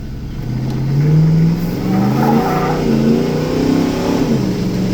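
A Ford F-250 truck's roller-cam EFI 460 engine revs hard and climbs steadily in pitch, loud and close, a sustained roaring acceleration during a pull with no talking.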